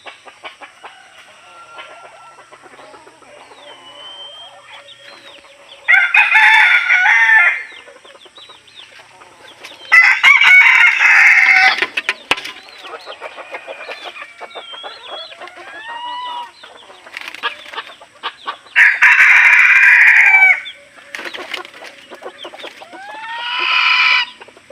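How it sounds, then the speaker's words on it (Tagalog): Red junglefowl roosters crow repeatedly in a jungle setting, with several loud bursts spaced a few seconds apart over a steady background of chirping birds and insects. "Kaya pinakita ko sa inyo ang ating mga labuyo."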